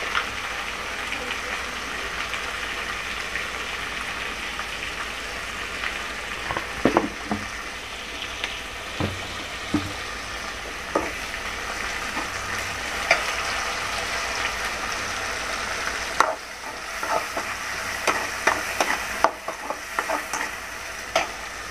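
Green turkey berries, onion, garlic and tomato fry in oil with a steady close sizzle, stirred with a spoon that scrapes and taps the pan now and then over a low background hum.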